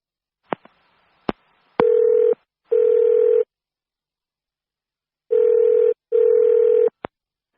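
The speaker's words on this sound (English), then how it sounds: "Now listen to the telephone call and be ready to answer questions 8 and 9." A recorded phone call opens with a few sharp clicks and a keypad beep, then two pairs of steady electronic ringback tones separated by a pause, ending with a click.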